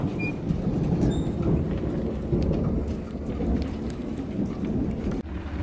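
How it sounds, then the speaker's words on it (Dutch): Steady rain patters hard on surfaces while thunder rumbles low and continuously, close and loud, with a brief sharp crackle near the end. "maar nu regent en onweert het gewoon"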